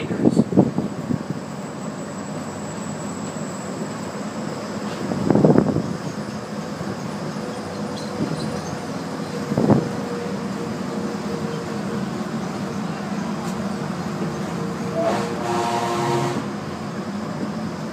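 Disneyland monorail train cruising along its elevated track, a steady rumbling hum of motors and wheels with a couple of louder swells and a brief higher whine near the end.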